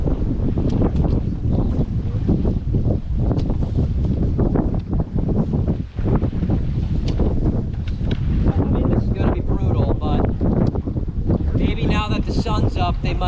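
Strong wind buffets the microphone on a fishing dock, a constant loud rumbling roar with gusty surges, with talking voices faintly mixed in near the end.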